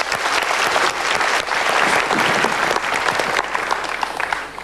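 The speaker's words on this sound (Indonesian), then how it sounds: "Kita berikan tepuk tangan dulu." Studio audience applause on a televised talk show, a loud dense burst of clapping sustained throughout, with little else audible.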